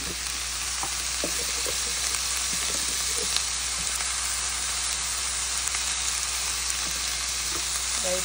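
Kichidi ingredients fry in a pan with a dense, steady sizzle throughout, and a few soft scraping stirs are audible beneath the constant crackle.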